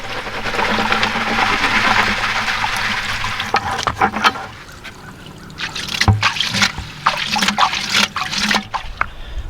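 Water and gold concentrates from a battery-powered Gold Hog Piglet highbanker pour out of a bucket: a loud, steady sloshing gush for several seconds, then breaking into splashes and dribbles with clunks of the bucket.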